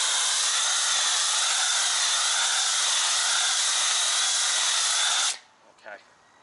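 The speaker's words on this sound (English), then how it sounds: "We want to use the first zap of the foam cannon to start getting all that loose stuff off." A foam cannon sprays wheel-cleaning foam onto an Audi S5 Sportback's wheel and brake caliper, giving a loud, steady pressurized hiss for about five seconds before it cuts off abruptly.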